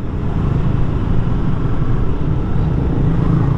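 Motorcycles rumble along a street on Jalan Kartini in Siantar, a steady low engine drone, close and fairly loud, with no talking.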